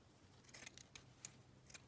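Scissors trimming a piece of lace, three or four quiet crisp snips spaced out over a couple of seconds, close and alone.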